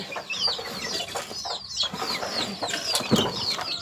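Chickens and chicks at a poultry farm, with repeated high chirps and clucks scattered through the stretch, brief wing-flapping bursts in between, and moderately close but fairly quiet overall, with no talk.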